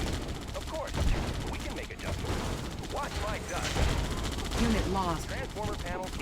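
Rapid gunfire, cannon blasts and artillery explosions from the real-time strategy game Red Alert 2 crackle in dense, overlapping bursts throughout, at a moderate level.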